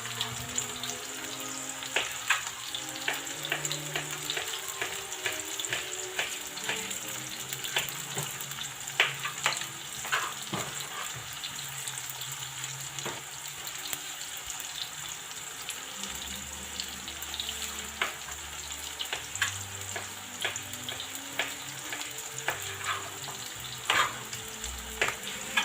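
Sliced potatoes for a tortilla fry in a pan with a steady, dense sizzle and crackle, punctuated by scattered pops and occasional scraping stirs, with no voices throughout.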